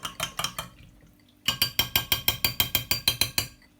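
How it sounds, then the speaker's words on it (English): A drink is mixed in a glass before straining, with a few quick rhythmic clinks, a short pause, then a long, even run of about a dozen sharp strokes close by. "Before we run it through our strainer, let's give it a little bit of mix."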